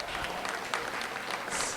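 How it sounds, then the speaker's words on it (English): A short burst of steady hand clapping from a school festival audience for a performer, moderately loud and continuous without voices. "Let's give Alowena another round of applause"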